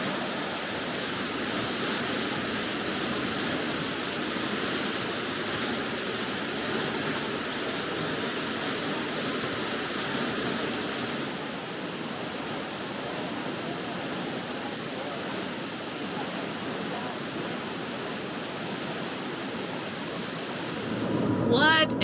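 Steady roar of falling water from a waterfall reached on a hike in South America, a continuous broadband rush that holds throughout, with a brief louder burst near the end.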